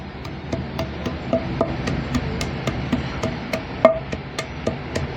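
A lemon-wood pestle pounds thandai ingredients on a stone, giving a steady series of close, dull thuds and knocks at an even working rhythm, with no talk.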